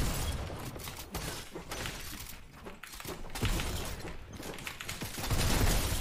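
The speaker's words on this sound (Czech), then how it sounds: "A za ty najednou po mě střílí 10 lidí" Rapid gunfire in an online shooter game, as many players fire at once: dense, crackling bursts and sharp shots overlapping continuously, moderately loud with no talk.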